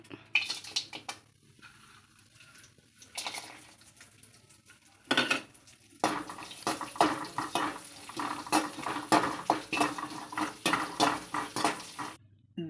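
Dry fruits frying in ghee in a pan for bread halwa, with close clinks and scrapes of a spoon against metal and a crackling sizzle, intermittent at first and then busier and more continuous, no talking.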